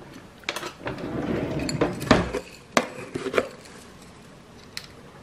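A spoon clanks and scrapes against a small pot while coconut creme pie filling is stirred, giving sharp irregular knocks over a soft continuous scraping, close and fairly loud with no talking.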